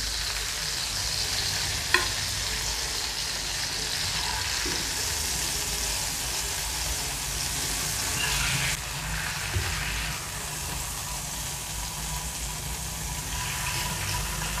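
Kerala-style fish fries in a pan with a steady, close sizzling hiss that lasts throughout, broken only by a couple of soft knocks, with no voices present.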